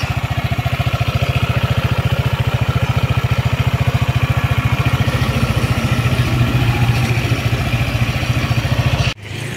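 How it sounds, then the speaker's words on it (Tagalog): A stock ATR 160 scooter's 160cc single-overhead-cam, four-valve engine idles steadily at close range, a loud, even low throb with light clatter, cutting off abruptly near the end. "Ito naman ang tunog ng kanyang makina."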